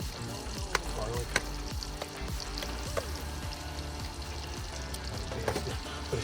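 Filet mignon sears with rosemary and garlic over open flames at a campsite, a dense steady sizzle and crackle with occasional sharp pops, close and continuous.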